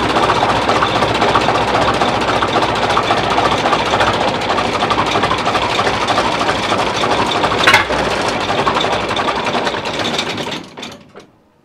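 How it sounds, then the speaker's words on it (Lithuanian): A DT-54 tractor's diesel engine idling at very low revs, a steady close mechanical chugging and rattling that runs unbroken before cutting off near the end. "jeigu labai mažais apsukimais dirba dizelis, reiškia viskas ok"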